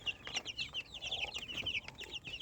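Adult chickens cluck steadily in a backyard coop during feeding with rice and bread, a busy overlapping chorus of short, fairly close cackles with no talking.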